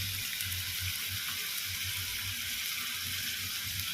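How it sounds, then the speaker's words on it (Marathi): Onion and tomato sauté in a hot pan for a pointed gourd (parwal) curry, giving a steady, close, continuous sizzle and crackle with no talking. "आता हे कांदा आणि टोमॅटो छान परतवलं जातं आहे"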